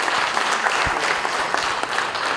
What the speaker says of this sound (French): On appelle, sous vos applaudissements, on l'encourage.